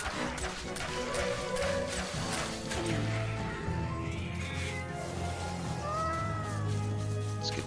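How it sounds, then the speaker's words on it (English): Cats meowing and caterwauling in the video game MediEvil (2019, PS4), several drawn-out cries over continuous game music and effects. "Need to have him avoid the cats."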